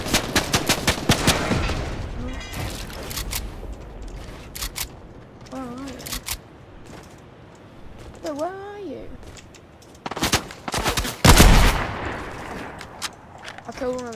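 Rapid Fortnite gunfire in a Zone Wars match rattles in quick bursts at the start and again near the end, with a player's voice talking in between.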